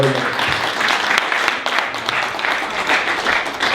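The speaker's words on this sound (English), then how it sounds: "Give yourself a round of applause." Audience applause at the close of a business talk, a steady wash of clapping across the room that stays level and fairly loud throughout, with a few scattered voices mixed in.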